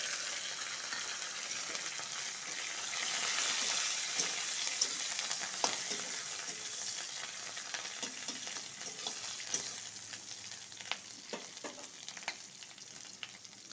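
Curry leaves, green chilli and ginger paste fry in hot oil, making a continuous crackling sizzle with occasional stirring clicks, fairly close and steady.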